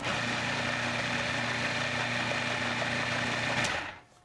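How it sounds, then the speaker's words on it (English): A blender whirls a sauce of garlic, parsley, mint and sea salt, a steady close motor hum with a tonal buzz that runs unbroken and then stops abruptly, with no talk. "we're just gonna sort of let it whirl and come into this nice, smooth, creamy sauce"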